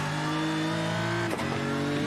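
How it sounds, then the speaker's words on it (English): Turbocharged straight-six race car engine from a sim racing game's Nürburgring endurance race, heard onboard as a loud, steady high-revving drone with a brief dip partway through, like a gear change, and no talk. "listen to this turbocharged straight 6 engine"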